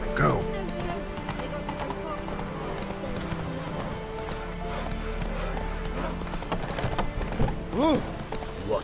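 Geralt's horse Roach from The Witcher 3 clip-clops at a trot, slowing to a stop with a snort near the end, under continuous game music and ambience with voices in the background.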